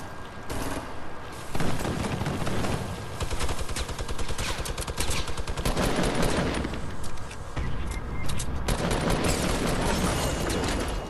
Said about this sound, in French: Juste là où Tom tire